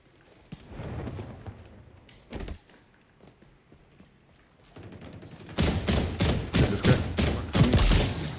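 Shots from an MK 20 SSR rifle in XDefiant, a few scattered reports early on followed by a louder run of closely spaced cracks toward the end, with game ambience between.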